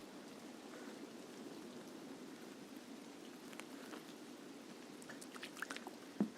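Water trickles and flows steadily through a trench in the Escape From Tarkov video game, a soft continuous burble with a few small splashes and taps toward the end.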